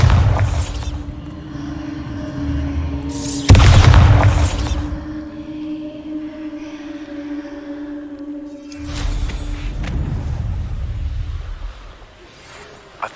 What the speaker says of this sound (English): Bombarda!